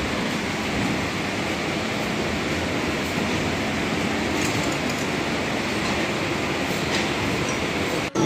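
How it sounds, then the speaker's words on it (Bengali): A train pulls into Sealdah station, giving a steady, dense rumble and rushing roar that stays loud and unbroken throughout, with faint metallic squeals on top. "এই যে শিয়ালদা কিন্তু ঢুকছে সবে ট্রেনটা"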